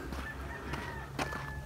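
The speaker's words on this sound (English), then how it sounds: "Are those turkeys?" Birds honking and gobbling faintly in a residential district of Pampanga, Philippines, identified as turkeys, a few short calls over street ambience.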